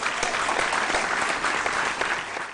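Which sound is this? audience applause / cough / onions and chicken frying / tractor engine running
audience applause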